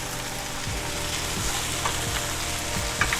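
Eggplant sizzles and fries steadily in a hot pan for ratatouille, a continuous crackling hiss with periodic soft stirring thumps, close and alone with no talk.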